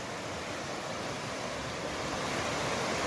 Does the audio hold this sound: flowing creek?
yes